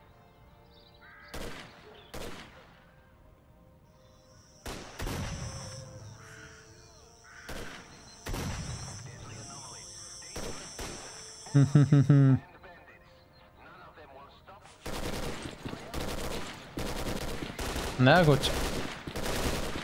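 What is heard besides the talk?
constant gunfire in the video game S.T.A.L.K.E.R.: Clear Sky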